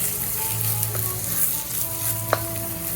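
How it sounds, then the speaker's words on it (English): Mushrooms sauté in a hot pan for kung pao tofu, a loud steady sizzle and hiss close up with a faint hum and one brief sharp tick of stirring, no voices. "Let me saute those for half a minute. Then I'm going to throw in my mushrooms on top of those."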